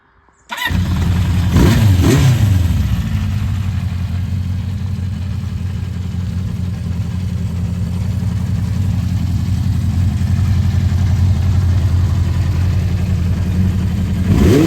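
Honda TLR200 trial motorcycle engine starting up, catching with a couple of quick revs, then settling into a steady, loud idle that ticks over evenly for the rest of the clip.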